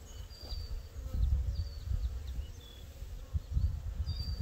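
A honey bee swarm buzzes on a tree branch outdoors, a low, fluctuating drone of many wings rising and falling in waves, with faint bird calls in the background.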